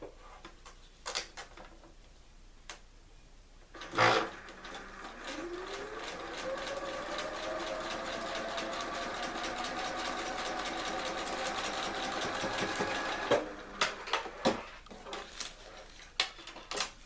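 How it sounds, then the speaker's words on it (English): A sewing machine joins paper-pieced quilt blocks, running in one long steady burst after a sharp start, with a rising whir and mechanical clatter, and a few clicks and handling noises before and after. "And now I'm going to sew them together."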